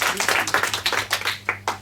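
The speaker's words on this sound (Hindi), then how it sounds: "जोरदार ताली हो जाए इसरो के लिए।" A studio audience on a junior quiz show claps hard and quick, a rapid run of sharp hand claps that sounds close and fairly loud and stays steady for nearly two seconds.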